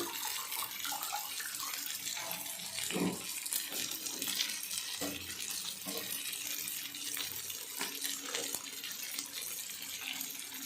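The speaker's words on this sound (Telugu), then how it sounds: "ఇప్పుడు మనం పులుసు పోసేసుకోవచ్చు" Tamarind juice is poured into a pot of curry with brinjal, drumstick, egg and tomato, a steady splashing, running pour close by that lasts throughout, with no talk over it.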